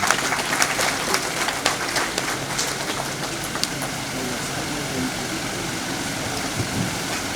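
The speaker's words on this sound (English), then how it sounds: "Let's give him another big round of applause" Audience applause after remarks delivered on behalf of President Muhammadu Buhari by his Chief of Staff, a loud crackling clatter of many hands, busier at first and then settling into a steady even roar.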